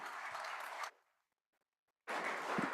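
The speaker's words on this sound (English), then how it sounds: "So let's give them a round of applause." Applause fills the House chamber in two bursts, separated by about a second of near silence. The first fades out slowly and the second starts abruptly.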